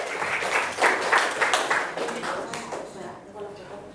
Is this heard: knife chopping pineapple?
no